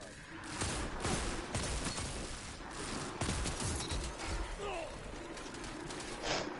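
Gunfire in a quick-play match of a first-person shooter game: repeated bursts and single shots crackle throughout, dense and fairly quiet under the game's background noise.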